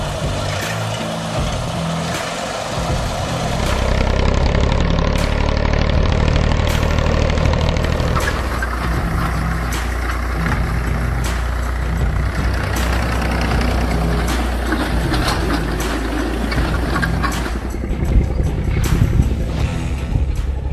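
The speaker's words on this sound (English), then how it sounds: "The Valmet 60 ID is equipped with an MWM engine, globally known for its efficiency and durability." A Valmet 60 ID tractor with its MWM diesel engine runs steadily, a deep low rumbling idle with a constant throb and faint metallic ticks, swelling slightly louder partway through.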